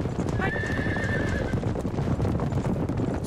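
Horse hooves clip-clop steadily on a busy street during a contest in 1930s-era Shanghai while a horse gives a clear whinny near the start, all under a dense crowd din and faint voices.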